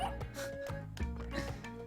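A dog barks in the Spelunky 2 video game, standing beside a Kali altar: a few quick, faint yaps in a row, with game sounds beneath and no voices.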